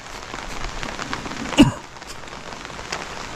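Rain patters steadily on surfaces outdoors at a spot where welding work has stopped, a soft continuous hiss with one sharp louder knock or splash partway through, and no voices.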